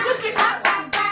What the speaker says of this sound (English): Clap for Philip.